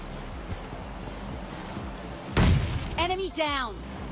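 A grenade goes off in the PUBG Lite video game as one sudden loud blast midway through, after a quiet stretch of faint background noise, followed shortly by a voice speaking.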